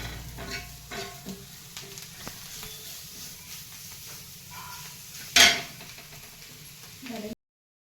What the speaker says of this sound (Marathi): चांगलं परतळू द्यायचं आणि कडक होऊ द्यायचं